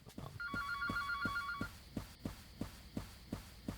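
In the video game Heart of the Killer, a phone rings with a warbling electronic trill over a steady, rhythmic, heartbeat-like thump that keeps pulsing after the ringing stops.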